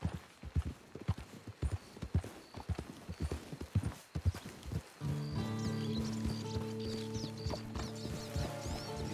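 Horse hooves clip-clop in Red Dead Redemption 2 Online, a brisk rhythmic run of close hoofbeats for about five seconds, then giving way to a steady mechanical clanking and tonal game sounds.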